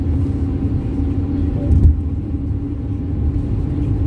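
A car drives along a road to a shop, heard from inside as a steady low rumble with a brief swell midway and no talking.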